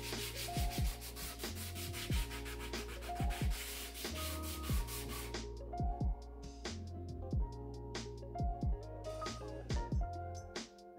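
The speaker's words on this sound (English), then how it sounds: "I need to make those repairs blend in, and thus the sanding process begins" Repeated strokes of a sander working over filled repairs on a homemade Vewlix-style arcade cabinet, rhythmic rubbing passes close to the mic with steady friction noise throughout.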